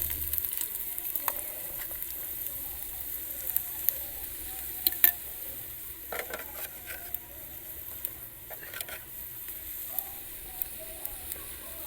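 Pumpkin (kaddu) cooks with salt and spices in a pan under a low, steady sizzle, with scattered pops, crackles and light stirring scrapes throughout.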